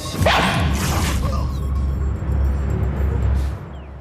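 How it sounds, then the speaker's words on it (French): A robot toy dog barks at maximum volume, a loud burst of electronic barking near the start followed by sustained noisy mechanical sound and rumble. "Robodog, volume maxi! Aboie!"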